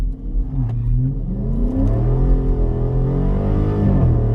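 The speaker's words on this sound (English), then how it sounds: "All right, let's do an acceleration test." A Dodge Charger Scat Pack engine revs up hard through an acceleration run, its rising mechanical roar steady and close for a few seconds.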